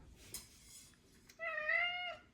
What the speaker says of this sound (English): This cat is always meowing these days.